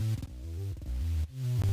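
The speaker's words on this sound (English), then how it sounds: "And then this bass here that we have is kind of like my bread and butter bass." A Serum synth bass patch with all effects switched off, playing a dry, loud, sustained low note pattern with a few brief gaps and retriggers, alone with no voices.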